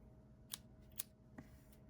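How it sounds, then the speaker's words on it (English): Scissors cut crochet yarn after the decreases: three quiet, crisp snips about half a second apart, close by in a still room. "you can pull that yarn and then you'll cut it."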